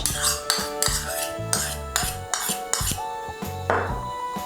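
A spoon clinks rhythmically against a bowl while stirring soy sauce and tomato sauce, about eight bright metallic taps in an even beat, close and clear.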